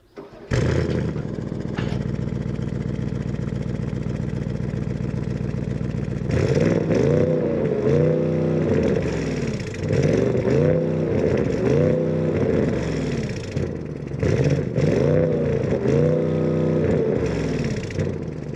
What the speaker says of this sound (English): So let's go ahead and fire it up. You can hear what that V8 sounds like.